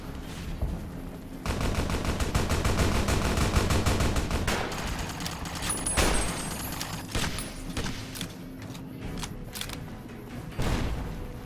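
Heavy .50 caliber machine gun fire in Fallout: New Vegas rattles in long, rapid bursts, loud and continuous, with short pauses and booming impacts in between.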